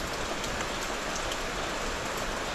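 Heavy rain from Typhoon Crising pours down steadily in Calaca, a constant loud hiss of falling water with no pauses.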